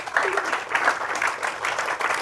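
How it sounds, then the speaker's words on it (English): Audience applause in a small indoor gathering, a brief burst of lively clapping from a modest crowd, close and fairly loud with uneven rhythmic pulses. "Can we give her a big round of applause?"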